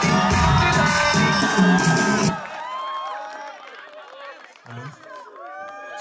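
A sangeet crowd cheers and applauds loudly over music for about two seconds, then the noise breaks off into scattered shouts, whoops and children's voices while people talk nearby.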